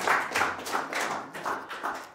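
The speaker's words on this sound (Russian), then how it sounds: "Так, еще раз аплодисменты." An audience at a DJ master class claps in a faint, even rhythm of soft bursts, slightly distant, with no one speaking over it.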